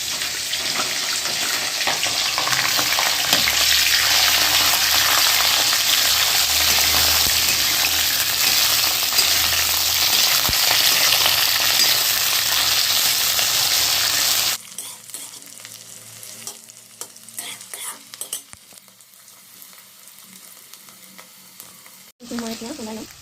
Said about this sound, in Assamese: মই চজিনাখিনিও ইয়াতে দি দিছোঁ, ফ্ৰাই কৰি ল'ম অলপ আগতে।